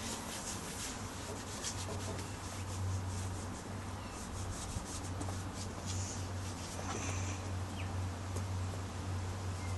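Conditioner is worked into an English leather saddle with steady circular rubbing, a soft continuous swishing close by, with a low hum in the background and no talking.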